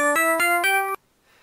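A ProTracker module playing at the default F06 speed: four bright, evenly spaced tonal tracker notes step along in a quick rhythm, loud and clean, then cut off abruptly into near silence.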